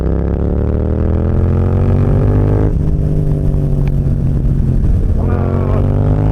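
A 2024 Yamaha MT-07 motorcycle engine runs loud and close, its steady drone of stacked harmonics shifting pitch as it revs and eases, with a brief dip near the middle before climbing again.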